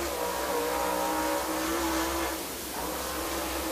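Super late model race car running on a 3/8-mile Claybank dirt oval, a loud continuous engine roar that dips briefly as it passes, then holds steady.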